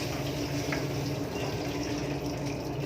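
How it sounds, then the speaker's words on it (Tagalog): Water draining from cooked penne pasta, a steady rushing pour with trickling patter, close and continuous for about three seconds. "I-drain muna natin siya ng maayos"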